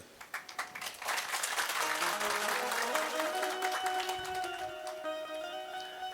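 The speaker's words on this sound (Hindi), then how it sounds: "आप तो ताली भी बड़ी सुंदर बजा लेते हैं" Audience at a Hindu religious discourse on Navratri rituals claps, starting as a few scattered claps and swelling into steady, fairly distant applause; a sustained tonal hum or chanting runs underneath.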